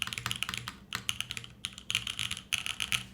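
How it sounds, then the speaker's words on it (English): Rapid, irregular keystrokes from a custom-built Austin R3 mechanical keyboard, close and crisp, with clicky bursts and short pauses over a faint low background hum, no one talking. "Awesome sounding keyboard. Always been a big fan of these Austins."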